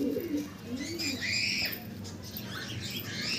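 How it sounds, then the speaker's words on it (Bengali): A flock of Andhra pigeons makes soft, low cooing near the start, then fades under higher background chatter and a brief rustle like wing movement. "এই পায়রা খুব ভালো পায়রা, অনেক পুরনো পায়রা আছে"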